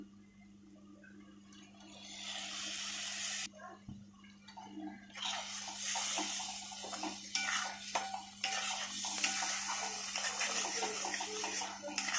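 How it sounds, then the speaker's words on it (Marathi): Water is poured into a spice bowl and then into a cooking pan for a Marathi vada amti, giving a steady splashing pour that pauses briefly and resumes with clinks of utensils, while someone talks softly. "मसाल्याचंच पाणी मी इथे घालते धुवून"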